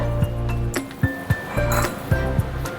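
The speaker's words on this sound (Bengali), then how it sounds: "দেখুন তক্তিটা করার জন্য আমি একটা বড় কাঁসার থালা নিয়েছি" A large brass plate clinks and rings as it is handled in a home kitchen, several short metallic taps over a steady low hum.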